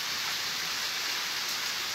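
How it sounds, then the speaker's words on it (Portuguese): Light rain falls steadily at a rural farmstead in Limoeiro do Norte, Brazil, a continuous soft hiss of drops with no talking. "chuva voltando aqui no sítio Cabeça Preta, Limoeiro do Norte"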